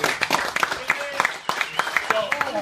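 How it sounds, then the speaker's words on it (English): A round of applause for the organizers at a pizza competition judging event, scattered handclaps from a small group heard close by, mixed with people talking over it. "A round of applause for Jim and everybody."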